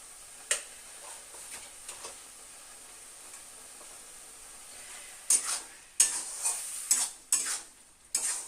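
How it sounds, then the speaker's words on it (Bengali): A spoon stirs cabbage mash in a pan as leftover water cooks off, with a faint sizzle underneath and then a burst of sharp scraping strokes near the end, close and moderately loud. "নাড়তে থাকবো যতক্ষণ না এই জলটা শুকিয়ে যায়।"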